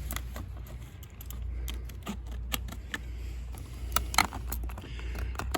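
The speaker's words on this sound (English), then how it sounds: "Just using a little set of tin snips." Small tin snips chop through vinyl siding in quick, irregular crisp snaps and clicks over a low background rumble, close and fairly loud, with no talking.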